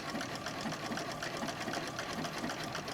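A longarm quilting machine stitches back and forth on a quilted bag, its needle producing a fast, even mechanical chatter with regular pulsing bursts, close and continuous.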